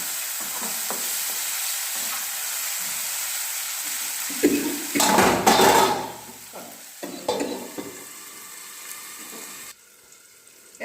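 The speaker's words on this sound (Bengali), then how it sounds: "এই যে এবার এটা মিক্স করে একটু চাপা দেবো টমেটোটা গলা পর্যন্ত" Lotte fish curry with tomatoes and a little turmeric being stirred in a pan, a steady sizzling hiss with a louder burst of frying and stirring midway, then quieting down.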